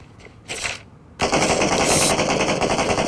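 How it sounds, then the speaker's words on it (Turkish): A couple of brief bursts give way to sustained, rapid automatic gunfire in PUBG that rattles loudly and continuously until the end. "Girdim silah sesi geldi."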